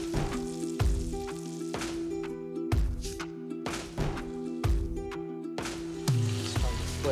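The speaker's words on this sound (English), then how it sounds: "because this fish is so thin, it'll cook right in the pan." A thin striped bass fillet frying in a pan sizzles loudly and steadily up close, broken by repeated thumps and knocks of the pan or utensil at irregular intervals, with no one speaking.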